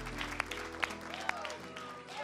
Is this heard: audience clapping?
yes